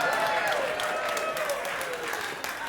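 Audience applause at a Big Top Chautauqua tent show in Bayfield, Wisconsin, steady, moderately distant clapping that carries on with a voice speaking over it throughout.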